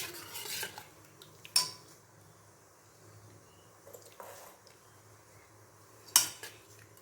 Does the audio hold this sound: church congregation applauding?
no